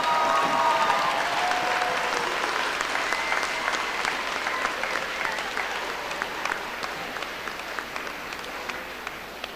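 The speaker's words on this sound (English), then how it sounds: "And another round of applause for our faculty while they do this" A large commencement ceremony crowd applauds the faculty with dense, sustained clapping that fills the whole stretch, loud at first and slowly easing off, with a few scattered cheers mixed in.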